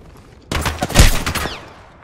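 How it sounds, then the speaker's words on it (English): Gunfire in the video game Apex Legends, played on a laptop with a GeForce RTX 4090 at 150W. A dense burst of rapid shots starts abruptly and runs about a second and a half, loud and close, then tails off. "Listen up, I'm getting shot at."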